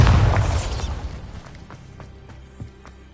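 A Bombarda blasting spell from Hogwarts Legacy on PS5 detonates in a loud, booming explosion that rumbles and fades over a few seconds. A few faint crackling pops follow in the quieter tail.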